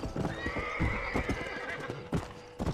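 In the video game Red Dead Redemption, a horse gives a loud, drawn-out whinny over a rhythm of clip-clopping hooves, with a couple of sharper hoof strikes near the end.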